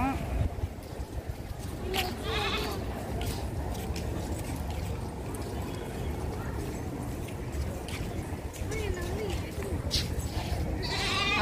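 Lamb bleating at a village gathering before a shrine offering, with cries rising over steady crowd chatter and nearby voices throughout.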